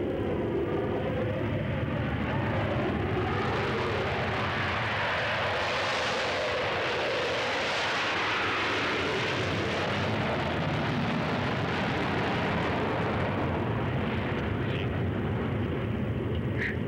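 A Concorde supersonic airliner from the 1970s roars with its jet engines, a long, loud, broad roar that swells and sweeps in the middle before slowly easing, heard alone without speech.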